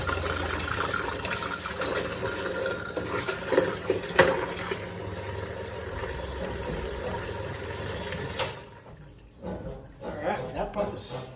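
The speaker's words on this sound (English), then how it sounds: "That pump is strong." Water pump on a MasterCraft Prostar 190 boat runs with a steady, strong whir and rush of water, close by, then cuts off near the end, leaving quieter background sounds.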